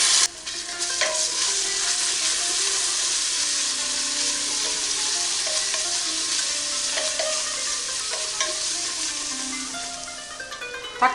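Tomato paste stirred into a frying masala of spices and coriander powder on medium flame for an Arabian madhghout, giving a steady close sizzle with scraping spoon strokes throughout.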